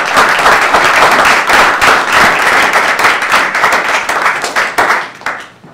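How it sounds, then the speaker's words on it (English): An audience at a forum on U.S.-Ecuadorian relations applauds the panelists: loud, sustained clapping from many hands that holds steady and then thins out toward the end. "If we can get another round of applause for our panelists."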